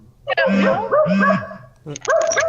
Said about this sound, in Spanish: hay alguien que tiene el perro ladrando